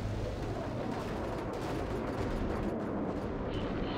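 Rapid gunfire from an infantry squad in a strategy video game, a dense, continuous barrage of overlapping shots and blasts that stays loud and unbroken for the full four seconds.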